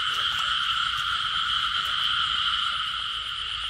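Frogs calling outdoors after heavy rain while people catch frogs, with a male frog among them: a dense, steady chorus of croaking that continues throughout at moderate distance, without speech.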